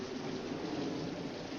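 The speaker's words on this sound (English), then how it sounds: "It's raining." Steady rain falls outside in an old film noir scene, a dense even hiss of downpour with no voices over it.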